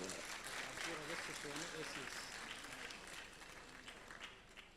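Hall audience applauding at an honour ceremony in Bhiwani, a dense, steady wash of clapping that fills the clip and fades slightly toward the end, with voices mixed underneath.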